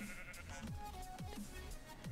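Sheep bleating in Minecraft, several short wavering bleats repeating at a steady pace over a busy game background, fairly close and moderately loud.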